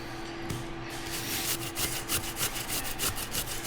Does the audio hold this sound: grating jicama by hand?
yes